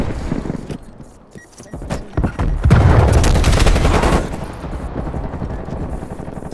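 Gunfire rattles in a shooter video game, starting as scattered shots and building into a loud, sustained burst of rapid automatic fire before easing off.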